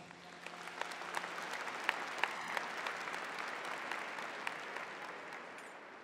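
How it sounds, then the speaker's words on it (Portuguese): A church congregation applauds steadily for about six seconds, a dense wash of many hands clapping at moderate distance, with a few sharper claps standing out and no talking over it. "aplauda a palavra do Senhor"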